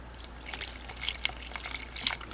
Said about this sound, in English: let's see if I can rinse these off now